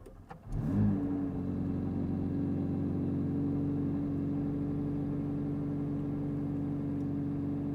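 A McLaren 750S Spider engine cranks and fires up with a quick rev, then settles into a deep, steady rumble close by.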